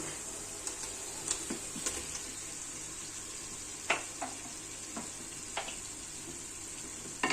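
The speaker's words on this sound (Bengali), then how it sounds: "নেড়ে মিশিয়ে দিচ্ছি। একটু নেড়ে নেড়ে রান্না করতে হবে, পাতিলের তলায় যেন ফুলকপি লেগে না যায়।" Fried cauliflower being stirred into yogurt masala in a pot, giving a steady low sizzle with a few soft spoon knocks and scrapes against the pot, quiet and close.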